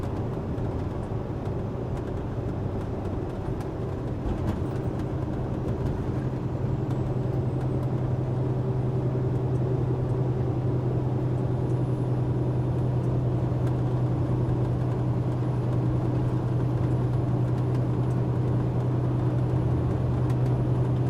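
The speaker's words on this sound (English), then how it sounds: "Is his truck that loud on stream? Well, I know it's straight piped." A straight-piped truck engine rumbles loud and steady from inside the cab on a rainy drive, a constant low drone with no talk over it.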